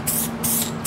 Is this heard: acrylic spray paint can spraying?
yes